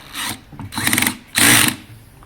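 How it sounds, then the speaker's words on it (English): Three short bursts of a power drill whirring and grinding slowly into the metal gas cap of a Honda CBR600RR motorcycle, separated by brief pauses, loud and close. "the drilling is going kind of slowly, but I'm getting there"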